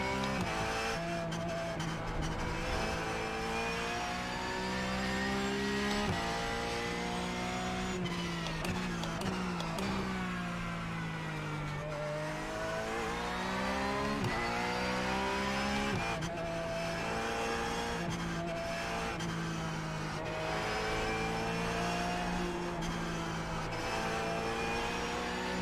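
A Porsche GT3 race car engine in the iRacing video game revs and drops continuously through gear changes, loud and sustained, with occasional tire squeal and no talking.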